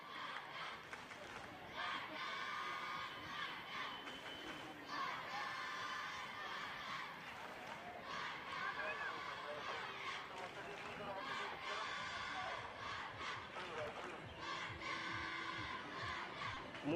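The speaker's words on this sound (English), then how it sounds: "Cheers for Cuttack. The crowd are rooting for them." Large crowd in a football stadium cheering and roaring for Cuttack during a cup final at Kalinga Stadium, a loud continuous wall of shouting and cheers that swells in waves throughout.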